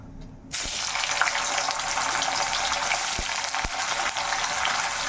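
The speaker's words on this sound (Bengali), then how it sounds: "এবার দিয়ে ওই তেলের মধ্যে দিয়ে দেব পনির" Paneer pieces hit hot oil after a brief quiet moment, then a loud, steady sizzle and crackle fills the rest, close up, with a couple of sharp clicks of a utensil against the pan.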